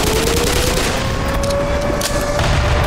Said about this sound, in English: So many explosions, man!